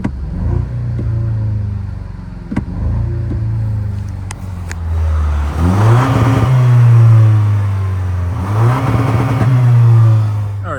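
A 2024 Toyota Tacoma TRD Pro engine idles, then revs twice in sport mode, each rise swelling to a loud, deep exhaust roar before settling back to a steady rumble, heard up close with no talking.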